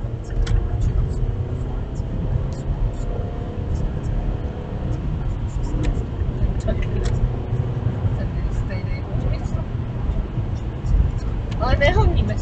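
Mazda 3 with a 1.6-litre 77 kW engine accelerating to overtake, heard from onboard as a steady engine drone with rising tones under people talking in the car.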